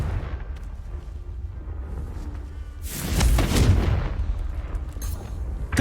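Confringo fire spell blast in Hogwarts Legacy, a loud, deep explosive burst about halfway through that swells and rumbles for a moment over a low ambient game background before settling.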